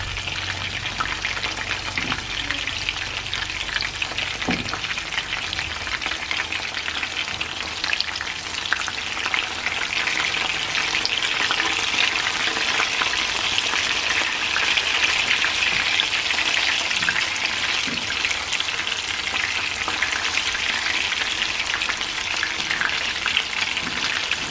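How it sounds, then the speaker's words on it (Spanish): Three tomatoes and five serrano chiles cook in a pan with a constant, dense frying sizzle and crackle, steady and close throughout with no talking. "A cocer aquí, que son tres jitomates, 1, 2, 3, 4, 5 chiles serranos"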